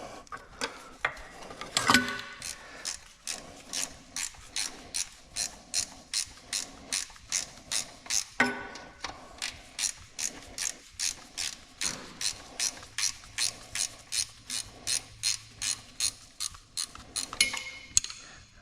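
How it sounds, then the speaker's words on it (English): Speed wrench ratcheting bolts on a 1980s Nissan Z31 car during a transmission removal, a long fast run of steady, evenly spaced clicks close by, briefly pausing midway, with no talking. "those are easily done with a speed wrench"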